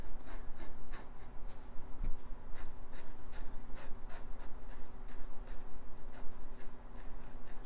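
A pencil sketches a Captain America figure on paper in quick rough strokes, a close dry scratching that comes in short repeated bursts.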